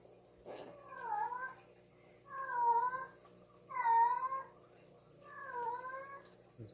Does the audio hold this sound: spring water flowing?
no